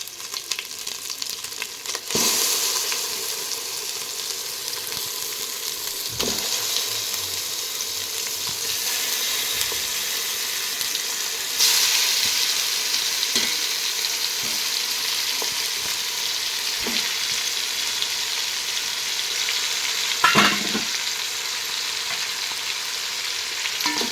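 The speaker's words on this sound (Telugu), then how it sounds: "ఇదిగోండి చికెన్ ఇలా ఉడుకుతుంది" Marinated chicken with onions sizzles and fries steadily in a pan for chicken biryani, a continuous close crackling hiss with occasional stirring scrapes and clinks.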